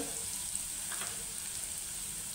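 A faint, continuous crackling sizzle of garlic tempering frying in oil, steady throughout with no talking.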